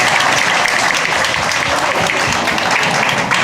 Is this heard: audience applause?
yes